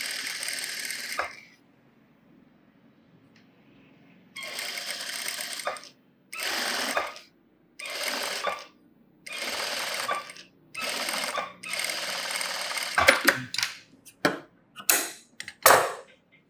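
A sewing machine stitches a blouse puff sleeve in separate runs of rapid mechanical whirring, stopping and starting several times, with short choppy bursts near the end and quiet pauses between, no voices.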